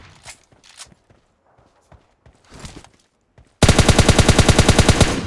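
Automatic gunfire from bots in the PUBG Lite mobile battle royale game, a loud sustained rapid burst in the final seconds after a quiet stretch of scattered footsteps and small movement sounds.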